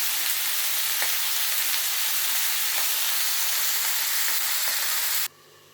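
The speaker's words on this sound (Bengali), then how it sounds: "আমি সবজিগুলোকে ভেজে নেব" Continuous bright sizzling of mixed vegetables frying in a pan for a spinach curry, with a few soft clicks of stirring, then an abrupt cut to quiet near the end.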